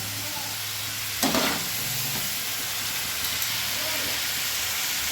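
Spices frying with ginger and garlic in a pan for an egg butter malaikari, giving a steady close sizzle with a brief sharp stirring scrape partway through.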